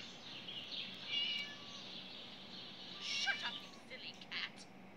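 Kitten meowing in the Scary Teacher 3D video game, a few thin high mews rising over a steady background hum, fairly faint with a couple of short bursts toward the end.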